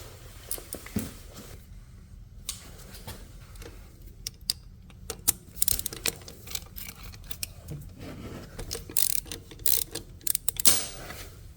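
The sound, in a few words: wrench removing 10 millimeter starter bolt on Can-Am ATV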